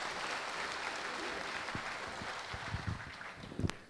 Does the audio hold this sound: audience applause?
yes